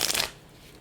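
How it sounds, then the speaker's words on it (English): A quick riffle of tarot cards shuffled once, close and crisp, fading into near silence. "We'll shuffle twice here."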